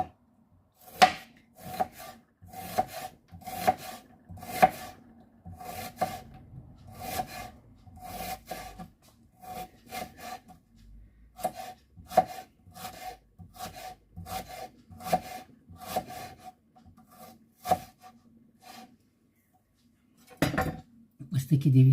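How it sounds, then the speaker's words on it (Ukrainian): A knife slices an onion lengthwise into very thin feather-like strips on a wooden board, a steady series of crisp chops with short pauses, close and clear, while someone talks over the cutting. "Оце так ми наріжемо всю цибульку"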